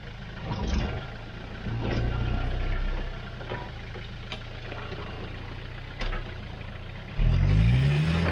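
Jeep JK CRD diesel with a manual gearbox on 37-inch tires crawling an off-road obstacle in Texas: a close, steady low engine drone with surges of revving, scattered clunks and knocks, and a sharp rev climb at the end, no talk.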